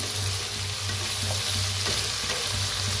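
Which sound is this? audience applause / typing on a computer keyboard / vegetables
vegetables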